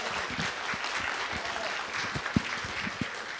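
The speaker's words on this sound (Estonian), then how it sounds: "Võib aplodeerida väga kõvasti." Audience at a literature festival conference applauding a young violin soloist from a music school, scattered moderate clapping with a few sharper individual claps standing out.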